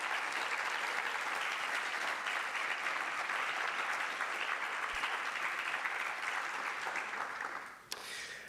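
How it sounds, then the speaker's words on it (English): A university graduation ceremony audience in an engineering school hall applauds steadily for several seconds, a dense wash of clapping that thins and fades near the end. "I beg an applause for all of them."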